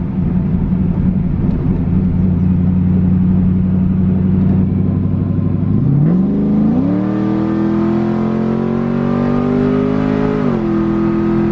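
Pontiac WS6 Trans Am with cam, intake and headers run wide open on a chassis dyno: loud, close engine roar climbing steadily, a quick shift with a brief dip, then revving up again, no talk.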